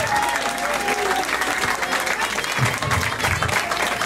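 Crowd at a Litefeet dance battle event cheering and applauding: dense, continuous clapping with shouts throughout, loud and close, with a voice briefly heard among the noise.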